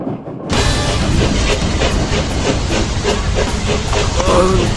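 A loud, continuous hiss of steam escaping from a locomotive, with faint rhythmic rail clatter pulsing underneath.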